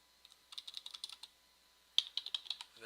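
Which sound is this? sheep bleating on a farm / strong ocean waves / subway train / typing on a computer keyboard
typing on a computer keyboard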